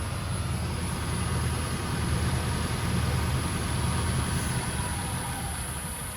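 A metal lathe run by a 3-phase inverter hums steadily at around 500 to 700 RPM, a continuous low motor drone with a faint high whine and no talking.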